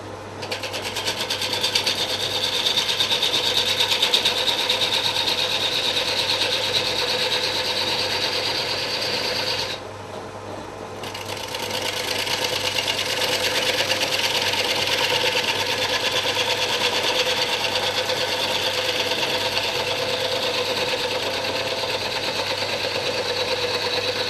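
Continuous whirring hum of a lathe spinning a wood burl as its edge is faced flat, with a steady high buzz that dips briefly midway before resuming.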